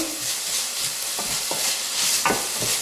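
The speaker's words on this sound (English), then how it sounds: "I'm just going to fry these until the onion becomes translucent and the bacon hopefully becomes crispy." Onion and bacon sizzle and crackle steadily in a hot pan, with a few soft scrapes of stirring breaking through the constant hiss.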